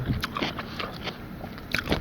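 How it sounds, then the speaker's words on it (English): Raw cucumber crunched and chewed right at the microphone, with several crisp, wet bites and chomps in quick succession. "Cucumbers, I'm not sure what vitamins they have, but they must have some. So excuse my chomping."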